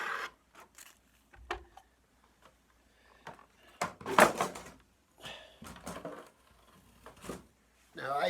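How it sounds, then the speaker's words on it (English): A Mopar Super Bee model car is slid out of its paper wrapping, with crinkling and rustling bursts and scattered handling noises between quiet pauses, strongest near the middle of the passage. "we're going to pull this out of the paper."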